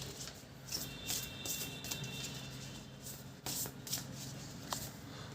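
Tarot cards from an archetype deck are shuffled and drawn, a soft papery riffle and slide of cards close by, quiet and continuous with light flicks.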